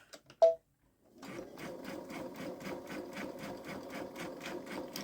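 A Babylock Solaris 3 sewing machine running a 1-03 stitch through thick fabric, starting after a couple of brief clicks and then a steady, rapid, evenly pulsing stitching run close up for about four seconds.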